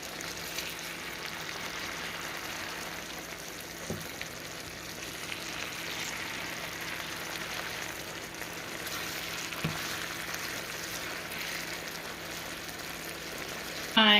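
Onions and mushrooms cooking on low heat in a pan with drops of Worcestershire sauce, giving a steady soft sizzle and crackle throughout, with a couple of brief clunks and no talking.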